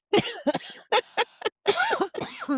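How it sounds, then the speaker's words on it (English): A person coughs hard in a series of sharp bursts, close and loud, with brief gasping pauses and throat sounds between the fits. "you just made me cough so hard"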